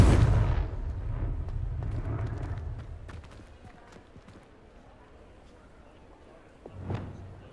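A Confringo fire spell bursts into a blast in Hogwarts Legacy combat: a loud, close explosion opens, rumbling debris and scattered impacts fade out, then a second smaller burst flares near the end.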